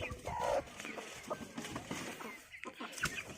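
Chickens clucking as they gather to be fed, several soft, scattered clucks and calls at close range, fairly faint.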